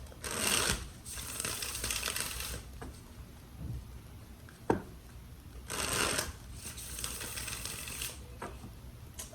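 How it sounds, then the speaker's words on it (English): Cards are shuffled in several quick riffling bursts, each a crisp flutter, with short pauses and a few soft taps between. "Let's do 2 more shuffles."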